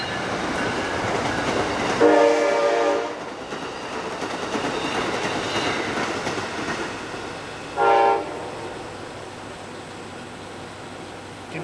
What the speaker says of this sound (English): Convinced engineers are just kids with train horns.